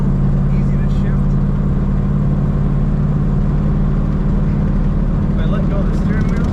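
A 1937 Ford Deluxe sedan with a three-speed floor-shift manual pulls away, its engine a steady, loud low drone with road and wind noise heard from inside the cabin throughout.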